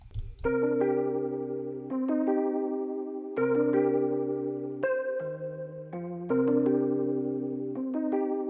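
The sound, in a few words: Keyscape Wurlitzer 200A electric piano vibrato preset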